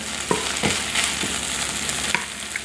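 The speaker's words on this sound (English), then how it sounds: "and I'm just basically browning this meat" Ground beef from a vintage 1969 military ration packet browning in a pan: a steady, close sizzle with a few sharp scrapes and clicks from stirring, no voices.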